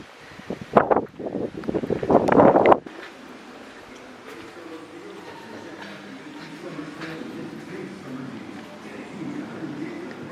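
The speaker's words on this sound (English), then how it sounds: "my god, it's so windy" Loud gusts at a campsite toilet block roar and buffet the microphone for a few seconds, then settle into a steadier, softer wind rush that continues to the end.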